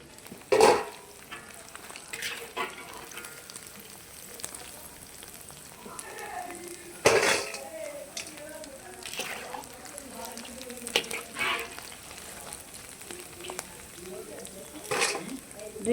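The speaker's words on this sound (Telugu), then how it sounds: "చామదుంప ఫ్రై, డీప్ ఫ్రై" Taro root (chamadumpa) deep frying in oil gives a soft, continuous sizzle, with occasional sharper bursts and clatters as pieces are moved, fairly quiet and close.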